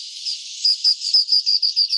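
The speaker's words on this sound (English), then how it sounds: "we did find this endemic Seychelles scops owl. Here's what he sounds like." An endemic Seychelles scops owl calls in a rapid series of high, whistled notes, about a dozen evenly spaced pulses, clear and fairly close against a quiet background.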